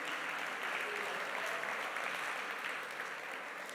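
A church congregation claps together in sustained, dense applause, steady for a few seconds before easing slightly at the end.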